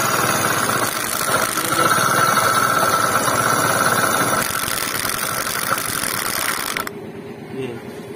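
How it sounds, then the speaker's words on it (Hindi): A Passion Plus motorcycle engine runs at a steady idle with a mechanical ticking, loud and close, then cuts off near the end, leaving a quieter background. "हम गाड़ी स्टार्ट करेंगे, स्टार्ट करो।"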